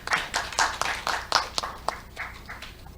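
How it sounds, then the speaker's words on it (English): A small audience at a startup pitch competition claps after a presenter finishes: a handful of distinct, uneven claps that come in loose bursts and thin out toward the end, with no steady roar. "Please give a warm applause to Mr."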